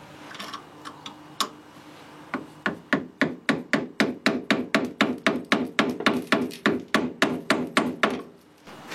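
Rapid series of about twenty sharp metallic taps, evenly spaced, as a small metal tab is hammered down on a car's master cylinder, close and crisp after a few scattered knocks.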